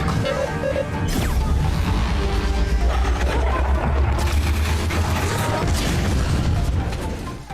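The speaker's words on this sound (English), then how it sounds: "the explosion did not cause any harm to Parker" A loud, booming explosion shatters iron armor, with crashing debris and metallic clatter, sustained for several seconds before fading out.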